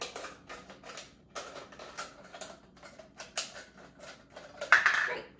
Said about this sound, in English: first she's gonna take the scissors and cut the top off the water bottle.